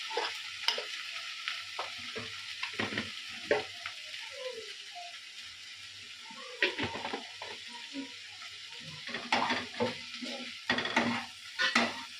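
Vegetables fry in a pan with ground cumin paste, a quiet continuous sizzle broken by irregular scraping and clatter of a spoon stirring, with louder bursts of stirring toward the end.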